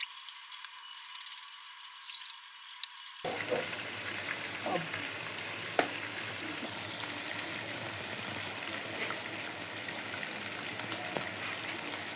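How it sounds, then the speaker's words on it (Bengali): Fish frying in hot oil in a frying pan: quiet at first, then a sudden loud, dense sizzle bursts in as the fish goes in and keeps crackling steadily with occasional pops. "তেলটা গরম হইলে আমি মাছটা ভেজে নিব।"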